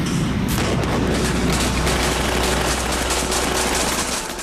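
Gunfire in a firefight, with dense continuous bursts of shots and booms blending into one loud, unbroken roar that runs the whole time without pause and carries no voices.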